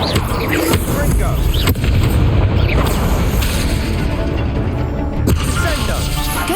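The Confringo fire spell goes off in the Hogwarts Legacy video game, with loud, dense booms and crashing blasts that are sustained and layered under ongoing game sound effects.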